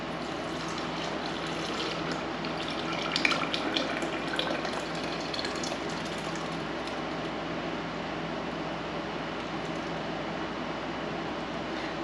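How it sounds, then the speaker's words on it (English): A soaked mustard seed mixture is poured gently from a quart jar into a blender, a soft, steady wet trickle and slosh lasting several seconds, close and quiet with no talk. "I'm just going to take the contents of the quart jar and pour them gently"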